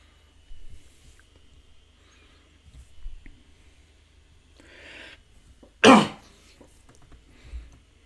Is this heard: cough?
yes